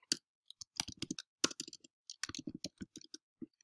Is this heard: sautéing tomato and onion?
no